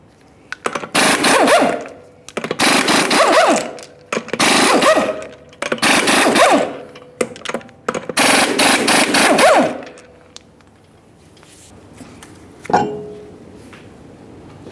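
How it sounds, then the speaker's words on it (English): Rear wheel lug nuts, six of them at 21mm, come off a 2015-2020 Ford F-150 in a series of loud, close mechanical bursts roughly a second each, with short gaps between, followed by quiet and a single sharp clink near the end. "We're going to remove the rear wheel by removing all 6 of our 21mm lug nuts."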